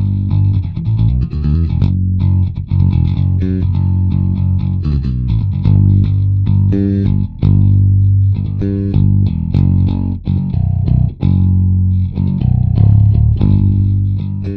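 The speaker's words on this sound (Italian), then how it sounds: "E ora andiamo a sentire ovviamente con la distorsione." Distorted electric bass through a Darkglass Microtubes 900 bass amp head, loud gritty overdriven notes and riffs played continuously with a thick, growling tone and no talk.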